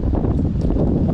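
Strong wind buffets the microphone out on the water during bass fishing on a very windy day, a loud, continuous low rumble with gusty fluctuations and no speech.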